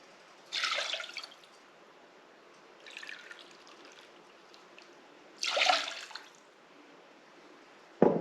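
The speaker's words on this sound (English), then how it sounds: "So I'm going to measure out 1 cup of my chicken stock." Homemade, home-canned chicken stock poured into a measuring cup in a kitchen, heard as a few quiet, separate splashing gushes with soft pauses between them and no talking.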